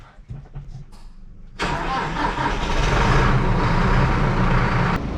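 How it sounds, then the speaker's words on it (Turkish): A tractor engine cranks and fires at a farm ahead of sowing seed sunflower fields, jumping from quiet handling noise into a loud, steady running rumble that holds close and strong to the end. "şimdi traktörü çalıştırayım"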